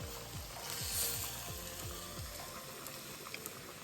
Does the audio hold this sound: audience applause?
no